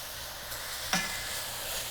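Pork tenderloin browning in a pan gives a steady, close sizzle, with one brief sharp clatter as the meat is tossed.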